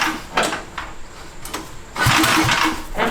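A cheap Temu-powered go-kart's small engine cranks with a few rough pull bursts, then sputters into a louder uneven running chug near the end.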